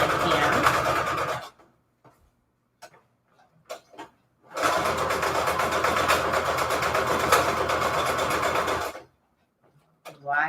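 A sewing machine rattles while running a straight stitch with default settings along a book-page junk journal pocket, two sustained bursts of rapid mechanical clatter separated by a quiet pause filled with faint ticks, with a short start at the end.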